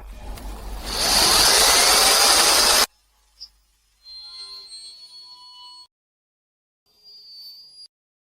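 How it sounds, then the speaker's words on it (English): A hole is drilled into a metal canister for a homemade fishing rig, a loud steady power-drill whine lasting about two seconds, followed by quieter intermittent tonal whirring and brief clicks. "Let's drill a hole."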